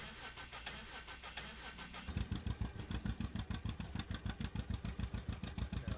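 A 1950s-era Model D tractor engine in Farming Simulator 19 starts up into a rapid, even putt-putt chug, each firing pulse distinct and loud, over a low droning background.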